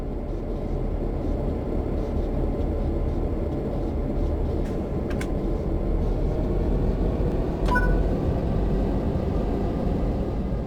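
Santa Fe F7 diesel locomotive in Train Sim World 3 throttling up from a stop, a steady low engine drone filling the scene with a couple of faint higher clicks partway through, continuous and close.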